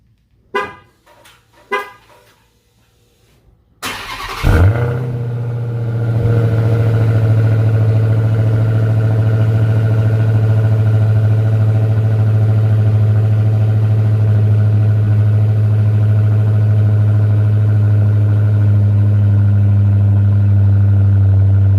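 A 2021 Dodge Charger Hellcat Widebody with a JLT cold air intake, cold-started after a few short clicks: the engine cranks, catches with a loud roar, then settles into a steady deep idle with a droning whine for the rest.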